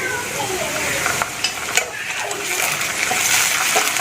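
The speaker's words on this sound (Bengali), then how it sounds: "এবার আমি পেঁয়াজের সাথে ভালো করে ভেজে নেবো" Onions frying with ginger garlic paste in a pan for a hilsa fish egg masala curry: a steady close sizzle with occasional stirring scrapes and clinks, continuous throughout.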